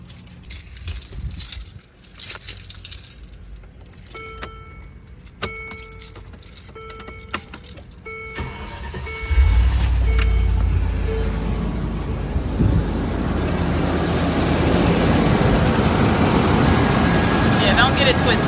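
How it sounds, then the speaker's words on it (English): Keys jingle and click for several seconds, then an old car's engine turns over and settles into a steady idle that rises slightly in level. "let me start it up for you so you can hear"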